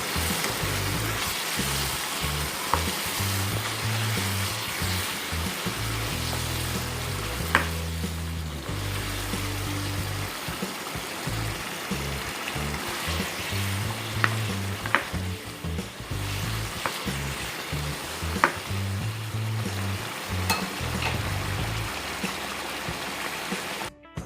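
Yogurt and spice masala for chicken biryani sizzles and fries steadily in a pot, with occasional stirring scrapes and clinks over a continuous loud crackle; no talking.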